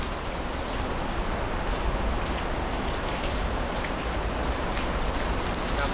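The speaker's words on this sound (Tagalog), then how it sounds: "Grabe, lakas ng ulan." Heavy rain pours down steadily, a dense and continuous hiss of drops hitting surfaces all around, with no voices.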